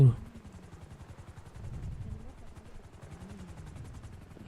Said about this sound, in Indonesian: Itu helikopter di atas.